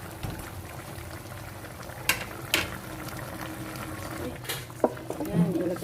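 Milkfish simmering with fermented black beans and bitter gourd in a pan, a steady bubbling hiss with a few sharp scrapes of a spoon against the pan and light background noise.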